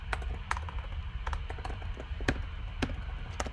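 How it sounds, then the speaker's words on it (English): Keys on a computer keyboard tapped in short irregular bursts during a university lecture on human-computer interaction, fairly faint against a low room hum, with no talking. "I could type in visibility"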